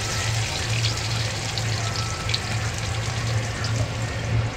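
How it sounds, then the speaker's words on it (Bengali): Potatoes stirred in a hot pan for a light Bengali rohu fish curry, giving a steady, close sizzle and frying hiss with a faint low hum throughout, no talking. "ভালো করে আলু নেড়ে চেড়ে নিচ্ছি।"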